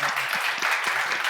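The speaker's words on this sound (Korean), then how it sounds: "우리 교회는 그럴 거면 지금 박수 하세요." A church congregation applauds in a brief, dense patter of many hands, steady and moderately loud, with faint voices murmuring underneath.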